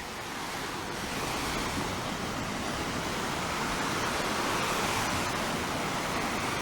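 Steady roar of ocean waves and surf breaking along a Barbados beach, continuous and fairly loud with some wind buffeting the microphone, no voices.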